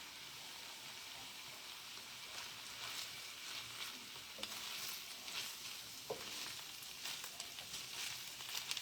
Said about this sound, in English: Just kind of stir that around.